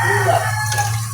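A chicken's clucking call with faint peeping from chicks, close by against a steady low background hum.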